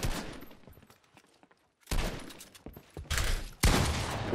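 Video game gunfire comes in loud, dense bursts: a stretch of rattling shots fades to near silence, then heavier volleys resume and build toward the end.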